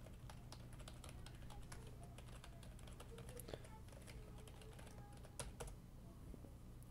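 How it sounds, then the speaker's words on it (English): Quiet, steady typing on a computer keyboard, a run of light, close key clicks at an uneven pace over a low background hum, with no talking. "let's just type in an IP address"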